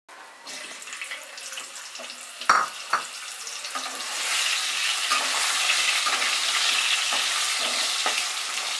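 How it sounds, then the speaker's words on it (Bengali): Potatoes frying in hot oil left over from frying boal fish: a couple of sharp clatters as the pieces go in, then a steady, loud sizzle that swells and holds close by, with no talking. "এরপরে আমি আলুগুলোকেও ভেজে নেব ওই তেলেই।"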